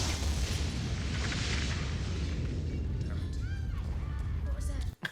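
A loud, sustained rumbling blast from The Crow (1994) fills the track, dense and booming before tapering off, with faint voices and a sudden drop at the very end.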